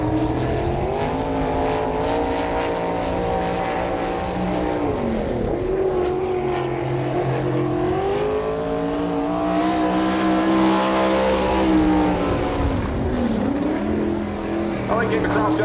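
Race car number 58, driven by Ricky Sutton, on a dirt track at an All Star Circuit of Champions event in Woodstock, Georgia. The engine roars loud and close, rising and falling as it revs through the laps, while an announcer talks over it.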